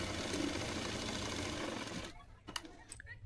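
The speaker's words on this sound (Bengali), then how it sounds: "জয়েন্ট হয়ে গেলে একটা চাপ সেলাই দিয়ে নিচ্ছি।" A sewing machine stitches a blouse seam with a fast, steady mechanical whirr up close, then stops and leaves a few soft clicks and handling sounds.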